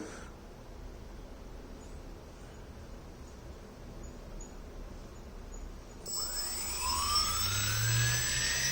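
BLDC motor of a solar-PV battery fed EV drive, speeding up: a faint hum under room noise, then a rising whine with climbing tones as the motor accelerates toward full speed.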